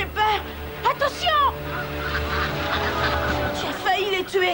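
Cartoon ducks quack and honk in a quick burst of bird calls at the start, then again near the end, over a steady low background rumble.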